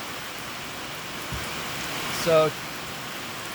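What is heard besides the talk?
rain falling outside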